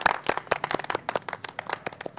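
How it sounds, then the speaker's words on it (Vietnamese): A round of clapping and applause from a small group at a gathering, dense irregular hand claps sustained steadily for a couple of seconds at moderate level, with no talking over it. "thôi vỗ cho một tràng vỗ tay"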